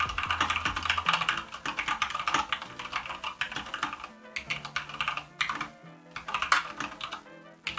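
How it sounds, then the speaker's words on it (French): Rapid, steady typing on an A87 mechanical keyboard with brown switches, a dense run of close, crisp key clacks with brief pauses, heard alone. "on va dire, des claviers mécaniques que je vous fais écouter."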